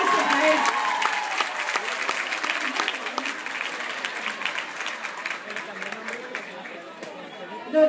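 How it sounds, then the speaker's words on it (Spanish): Crowd applause greeting a guest at an outdoor public water-well inauguration event in Santa Marta: sustained, fairly loud clapping that slowly thins out, with murmuring voices mixed in. "Un aplauso para él."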